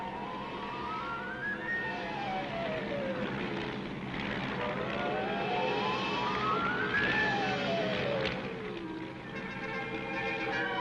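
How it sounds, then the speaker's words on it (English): Light transport aircraft and helicopters in flight during military airdrop demonstrations, a continuous engine drone with rising and falling whines, loud and sustained throughout. "Troops are dropped from copters, from light transport aircraft,"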